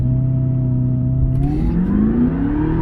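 A Cadillac CTS-V launching from a standstill, its engine revving loud and close with a rumbling note that climbs steadily in pitch as it pulls away, with no voices.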